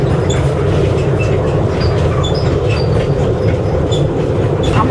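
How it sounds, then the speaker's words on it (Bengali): A small amusement park sky train rumbles along its track with steady rolling noise and faint clicking and squeaks, loud and close, as if riding aboard. "এখন পদ্মা সেতুর উপর দিয়ে যাচ্ছি স্কাই ট্রেনে করে"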